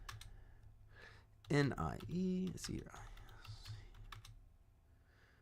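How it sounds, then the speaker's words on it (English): Stock tickers typed on a computer keyboard, a close run of quick clicking keystrokes with a louder burst in the middle, while someone talks over the typing. "let me start typing these in"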